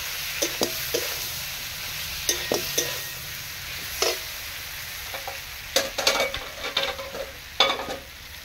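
Whole boiled potatoes go into a pan of well-cooked masala spices and are stirred, with scraping and clattering strokes of the spoon over a soft, continuous sizzle.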